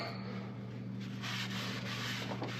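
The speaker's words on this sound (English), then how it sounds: "clean the backside with our brake cleaner. Then we spin it around and clean the front side." A brake caliper is sprayed with aerosol brake cleaner, giving a steady close hiss over a low, constant hum, with no talking.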